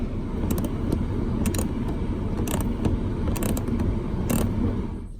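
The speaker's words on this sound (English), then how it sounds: "we're going to remove these with a 10mm socket" A 10mm socket works on the bolts of a factory dash speaker in a 2014-2019 Toyota Highlander, with repeated quick ratcheting clicks in short bursts over a steady low background hum, close by.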